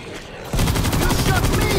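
Rapid gunfire erupts in the World War Z co-op shooter: after a half-second of quieter ambience, loud automatic bursts start and keep rattling in a dense, continuous stream to the end.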